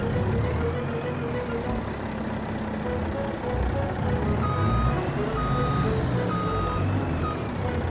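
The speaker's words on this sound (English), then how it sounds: "Go right over the trigger with the back end of the truck" A truck reverses in the Farming Simulator video game, its steady high reversing beeps pulsing over a loud, continuous diesel engine rumble with a brief hiss of air brakes near the end.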